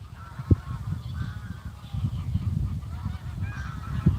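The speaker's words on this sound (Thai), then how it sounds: "ห่าน" Geese honk repeatedly outdoors, a scattered flock calling at moderate distance with a couple of sharper, louder honks over a steady low rumble.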